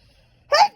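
A single short sneeze, voiced as an exaggerated spoken 'achoo' imitation, a brief loud burst after a moment of near silence.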